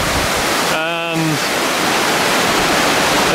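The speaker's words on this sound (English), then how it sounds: "there's the main waterfall now through the hole in the wall" Gordale Lower Falls, a limestone tufa waterfall, roars as a loud, steady rush of falling water that fills the whole clip, with a brief tonal burst over it early on.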